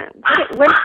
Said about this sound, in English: oh, sorry, that's my dog. That's the Chihuahua.